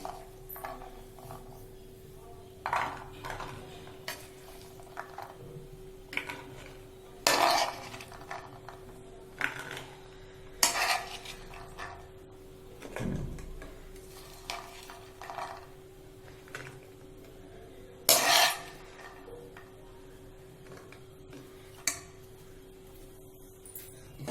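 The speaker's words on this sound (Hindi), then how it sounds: "अब इसे एक प्लेट में सर्व कर लेती हूँ।" Chana salad of soaked gram spooned onto a plate, heard as sparse, quiet clinks and scrapes of a spoon against the dish, separated by long near-silent gaps.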